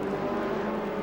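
A Porsche 956 Group C race car roars past while overtaking at Sandown near Melbourne, a steady loud engine drone with broadband noise, heard briefly and alone.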